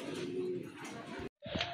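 A pair of pigeons cooing close by, soft low throaty calls running through most of the moment, then a short pause before a final coo.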